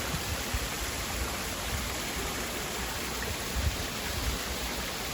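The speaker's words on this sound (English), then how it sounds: "And another waterfall over here." A waterfall somewhere in Virginia, outdoors near yellow flowers, gives a steady broadband rush of falling water that holds at an even level the whole time, with no voices over it.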